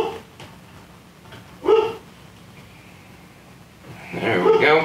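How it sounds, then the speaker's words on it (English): Dogs bark and whimper nearby, worked up in short, sharp outbursts, with louder yelps near the end, while a person talks through much of it. "Oh, now my pups are getting all worked up."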